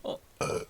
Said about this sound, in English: was a burp